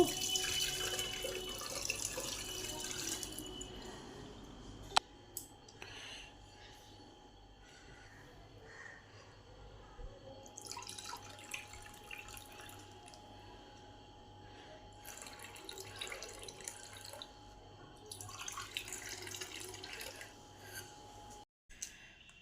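Tamarind Amlana sherbet, a Rajasthani drink, is poured through a strainer, making a quiet, steady trickle of liquid with intermittent splashy surges.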